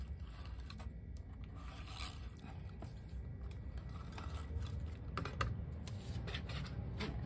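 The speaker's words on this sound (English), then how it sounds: "Now I'm going to take my adhesive tape runner. I'm just using the Darice Permanent." A Darice Permanent adhesive tape runner lays tape along a card panel, giving soft, close scraping and rubbing strokes with a few faint clicks, alone and quiet.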